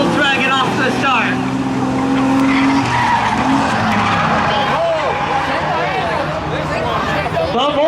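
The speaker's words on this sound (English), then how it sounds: "The Honda outpowers the Volkswagen off the start." A Honda and a Volkswagen race car launch hard off a drag start, engines roaring loud and close with squealing, skidding tires throughout while a commentator talks over the noise.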